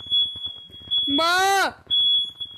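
A home smoke detector shrills with a steady high-pitched beep, loud and close, while a person talks excitedly over it and a brief squealing yell cuts in midway.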